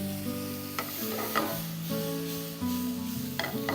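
Prawns and bell peppers cook in a pan with added water, giving a steady sizzling, bubbling hiss throughout with occasional scraping stirs, alongside faint background tones.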